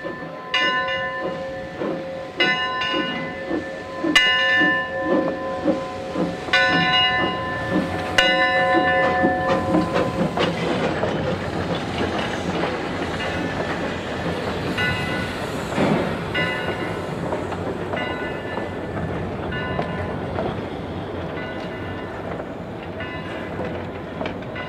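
A special train pulls out of a station with its bell clanging in a steady repeated rhythm over rolling wheel clatter, the ringing fading after a few seconds while the rumble of the passing cars continues.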